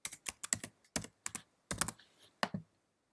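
A short string of crisp keystrokes on a computer keyboard types out a single word, about a dozen distinct close clicks in quick bursts, then silence.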